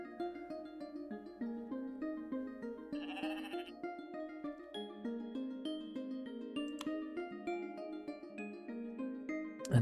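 Sheep in the farming and nature-building video game Equilinox bleat repeatedly over a steady backdrop of tonal background music, the calls moderately loud and recurring throughout with no talking.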